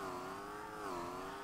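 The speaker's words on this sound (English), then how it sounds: "This is non-stop redlining." A car engine held at redline in the Street Legal Racing Redline racing game while drifting, a steady, loud, high-pitched whine that wavers slightly in pitch without letting up.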